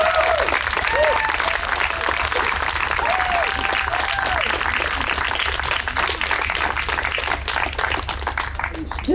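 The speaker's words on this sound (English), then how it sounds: "if we could just give them a round of applause" Sustained crowd applause for the youth helpers at a woodland-style mural unveiling celebration, steady and full throughout with scattered voices mixed in.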